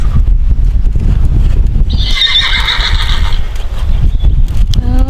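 Sugar Baby, a horse ridden in training, gives a loud, clear whinny in the middle, over a steady rumble of hoofbeats and outdoor background noise, with no talking.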